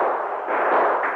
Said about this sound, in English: Gunfire that was devastating lashed at the Black Arrow